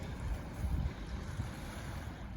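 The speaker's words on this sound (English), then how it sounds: "Can you hear the water?" Soft, low water lapping at a foggy lake shore with a gusty wind rumble over the microphone, steady outdoor wash and no voices.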